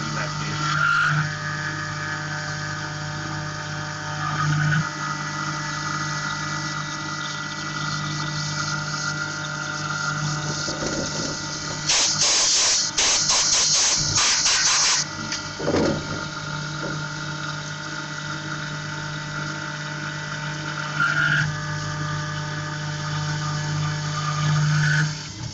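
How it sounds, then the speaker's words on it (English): A CNC machine milling an aluminum part with multiple corner passes, giving a steady mechanical hum and whine with a burst of dense chattering cutting noise partway through, fairly loud and continuous, with no voices. "Doing multiple corner milling"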